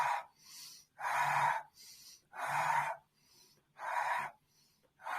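Someone performs a slow, full breathing exercise through the nose or mouth, with steady airy inhales and exhales alternating in a regular rhythm of about five breaths, close and clear with no talk.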